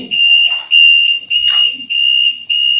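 A drowsiness-detection helmet's buzzer sounds a loud, piercing electronic tone in repeated pulses with brief gaps between them, close and alone.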